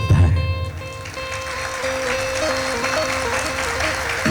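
An audience applauds after a Charani music performance at an Indian classical dance event, steady clapping under sustained tonal music, fairly loud and continuous.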